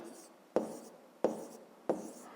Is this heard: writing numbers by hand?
yes